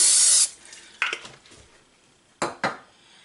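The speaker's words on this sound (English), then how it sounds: "I'm going to spray them in a little pan" A burst of cooking spray hisses into a small pan for about half a second, followed by a few light clinks and taps of metal and cookware.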